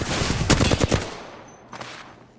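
Rapid automatic gunfire in Apex Legends: a loud burst of close shots for about a second, then quiet with a fainter second burst shortly after.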